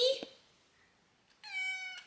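A pet cat named Coco meows in a kitchen, a short clear call near the end after a brief thump and quiet, close and moderately loud.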